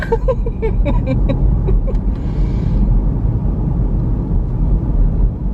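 A car drives along through thick low cloud, its steady low road rumble and engine drone continuous and fairly loud throughout, with a few faint higher clicks early on and no talking.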